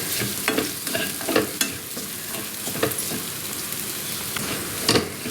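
Egg with coriander powder sizzles loudly in a frying pan while a spatula stirs it, with repeated scraping strokes and taps over continuous frying crackle, close up.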